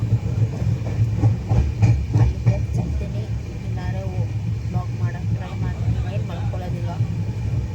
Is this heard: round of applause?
no